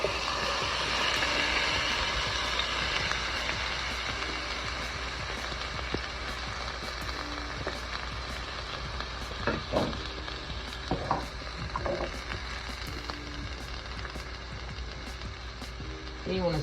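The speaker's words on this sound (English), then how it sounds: "So we're going to transfer this because we have to saute our veggies." Vegetables sautéing in a little safflower oil in a pan for shrimp fried rice, a loud continuous sizzle with occasional scraping and stirring knocks near the end.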